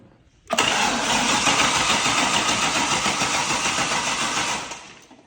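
A Chevrolet Corvette C6 with a newly installed high-rise intake manifold cranks briefly and fires up, settling into a loud, steady close-up engine roar before fading slightly at the end, no voices.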